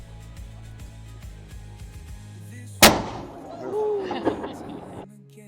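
A single loud cannon shot fired as the time signal at Edinburgh Castle, a sharp close boom whose rumble and echo roll away over a steady background bed.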